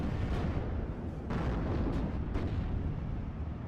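AA half-track in a World War II strategy game firing on infantry squads: loud bursts of heavy rapid fire layered with distant booms and explosions in a dense, continuous battle din.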